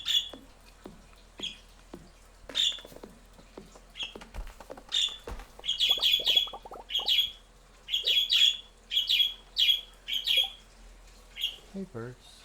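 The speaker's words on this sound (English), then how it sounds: "Hey, birds." Small birds chirp in a repeated series of sharp, bright tweets, closely spaced in bursts, over quiet ambience with soft clicks and tapping nearby.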